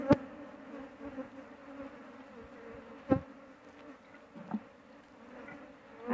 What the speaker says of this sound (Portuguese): Aparentemente bastante abelha